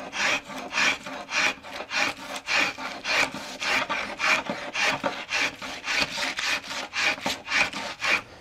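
Travisher shaving a yellow poplar chair seat, a steady run of rhythmic rasping strokes, each a quick, breathy wooden scrape, repeating close and fairly loud.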